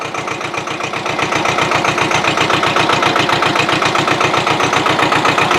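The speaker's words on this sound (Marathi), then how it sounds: "अरे ट्रॅक्टर पुढे चाललाय" Tractor engine running nearby, a loud rhythmic diesel chugging that starts somewhat quieter and then settles into a strong, even beat.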